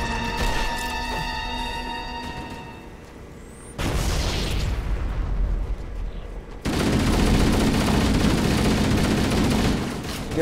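Enemy gunfire in Halo Anniversary, dense bursts of shots and booming impacts that grow louder in the second half, continuous and close with no talking.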